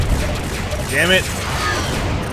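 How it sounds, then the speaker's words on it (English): Missile launches in the Freespace 2 space-combat game sound as a dense, steady roar of launch and weapon noise, with a brief rising whoosh near the middle and voices talking over the din. "They're launching missiles."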